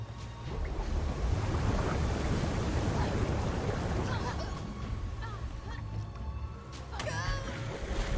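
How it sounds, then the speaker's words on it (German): Rising water in the video game Woolfe: The Red Hood Diaries, a broad surging wash of water that swells and recedes in waves, with a few faint tonal game sounds near the end. "Das Wasser ist massiv gestiegen."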